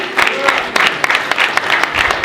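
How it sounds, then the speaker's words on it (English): A crowd claps steadily for a couple of seconds, dense, even applause filling the room with no pauses. "Let's give a round of applause"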